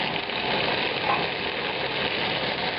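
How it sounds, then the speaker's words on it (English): Pressure-cooked beef frying in oil in a hot non-stick pan, a steady dense sizzle running evenly and close throughout with no talk. "And begin frying the meat."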